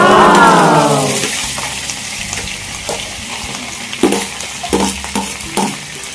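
Ginger-garlic masala for chicken gravy hits a hot pan with a loud, hissing burst that fades over a second, leaving a low sizzle punctuated by several sharp spoon scrapes near the end.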